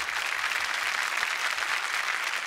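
A studio audience at a Marathi TV dance show breaks into steady, dense applause, continuous and fairly loud for the whole stretch with no talking over it.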